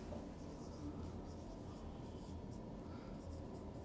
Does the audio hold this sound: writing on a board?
yes